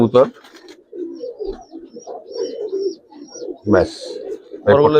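A Giribaz pigeon of the colouring Hurricane type coos in soft, low, throaty runs close by, while a voice speaks at the start and end.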